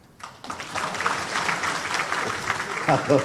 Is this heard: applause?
yes